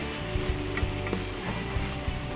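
Matzo brei eggs frying and being scrambled in a hot pan, a steady close sizzle with a few spatula scrapes and stirs breaking through.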